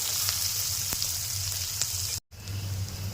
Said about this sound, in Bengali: এবারে পেঁয়াজ লঙ্কাটা ভালো করে এই তেলের মধ্যে ভেজে নেব।